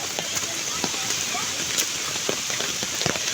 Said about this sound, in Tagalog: Sobrang ulan kasi ngayon.